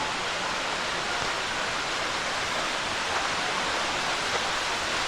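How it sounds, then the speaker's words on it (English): A waterfall in Lehigh Gorge pours with a constant broadband roar, loud and near, unbroken throughout with no voices over it. "All right, so we do have a waterfall up here."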